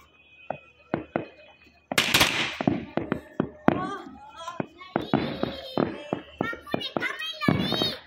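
Firecrackers set off during a small Diwali-style celebration for Guru Nanak's birthday, sharp bangs and crackling bursts popping repeatedly, close and loud, with children's voices chattering between them.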